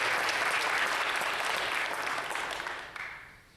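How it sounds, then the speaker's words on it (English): A round of applause from the audience honors the judges at a 2016 IHSFA speech tournament final round, steady dense clapping filling the hall and tapering off near the end. "Let's hear a round of applause for our judges."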